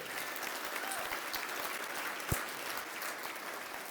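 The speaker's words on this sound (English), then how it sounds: "Let's have a round of applause for that." An audience at a towing and recovery Hall of Fame induction ceremony gives a round of applause, a steady, moderately distant wash of clapping with one louder clap standing out.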